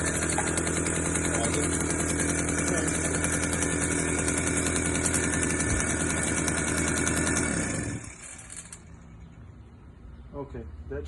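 A 1976 Garelli Eureka Flex moped engine runs warm at a steady, loud, buzzing idle for about eight seconds, then cuts out, leaving only faint handling noises.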